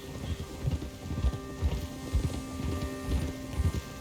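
Horse hooves clip-clopping in the video game Red Dead Redemption 2, a steady rhythmic run of close, moderately loud thuds over a low ambient bed.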